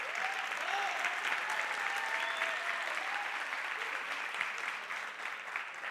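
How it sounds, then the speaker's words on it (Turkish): Audience at a youth photography talk applauding, a steady, moderately faint patter of clapping across the room with a few brief tonal sounds drifting over it. "Bir alkış daha rica edeceğim."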